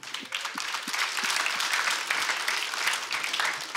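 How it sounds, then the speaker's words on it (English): An audience applauding for a pianist brought up on stage, a dense, steady wash of clapping at close-to-moderate distance that holds evenly throughout. "Let's just give Vi a clap right now."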